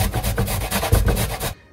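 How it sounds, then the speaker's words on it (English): Fresh ginger with the skin still on is grated by hand, a close, rapid, rhythmic rasping scrape that runs continuously for about a second and a half before stopping briefly. "I need a tablespoon of ginger, fresh ginger, and I'm gonna grate it"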